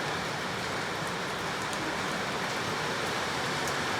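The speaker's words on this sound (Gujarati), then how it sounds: "જો ધડબડાટી બોલાવા મળ્યો છે વરસાદ" Dense, steady rush of heavy rain pouring down, a broad even roar with no pauses.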